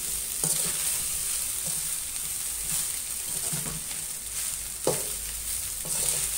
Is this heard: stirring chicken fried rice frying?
yes